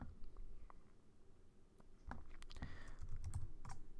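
Keys clatter on a computer keyboard as a word is typed in for a Java rock-paper-scissors console game, scattered sharp taps followed by a quicker close burst of keystrokes, with no talk.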